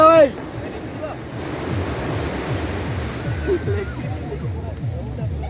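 Surf washes onto the beach at Balasore continuously with a broad hiss and rumble, wind buffeting the microphone, and a short burst of sound at the very start.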